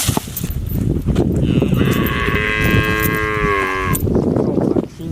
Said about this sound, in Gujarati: અરે યાર ભેંસ લાવે વેચાતી